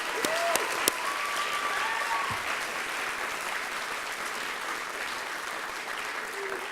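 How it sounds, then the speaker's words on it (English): An audience at the Alaska Governor's Arts and Humanities Awards applauds, a full, even wash of clapping that starts with a few sharp claps, carries faint voices, and softens gradually toward the end. "Can you give them another round of applause?"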